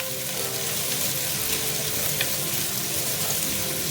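Chopped onion and capsicum sautéing in an oiled pan for fried rice, a loud, steady, close sizzle and hiss with faint stirring, no voices.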